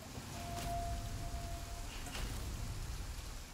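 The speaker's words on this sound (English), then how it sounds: "Oh, still raining after an hour." Steady rain falling in The Flame in the Flood, a soft continuous hiss with low rumbling underneath, faint and even throughout.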